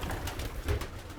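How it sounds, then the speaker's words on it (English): Racing pigeons in a young bird loft give soft, low cooing calls, close by and brief. "this is right now my young bird loft, my young bird team"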